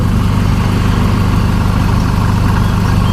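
A Chevrolet Colorado engine with faulty injectors on cylinders one and two runs rough near the mic, giving a loud, steady low rumble with an uneven pulse and no voices.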